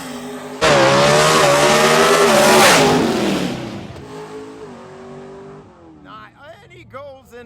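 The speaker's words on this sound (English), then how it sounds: "Dwayne Rice. Bringing up the just tuxedo clean CL1 Camaro on a single." Mountain Motor Pro Stock CL1 Camaro launches alone on an IHRA drag strip, an abrupt, deafening engine roar that holds for a few seconds, then fades as the car pulls away while an announcer talks over the fading sound.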